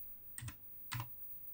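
Two crisp keystrokes on a Commodore Plus/4 computer keyboard while entering a cassette load command, evenly spaced and close, in a quiet room.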